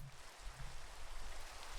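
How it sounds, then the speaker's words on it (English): Rain falling in the Minecraft video game, a faint, steady hiss of light rainfall with soft low rumble, continuous and alone. "Oh, it's raining."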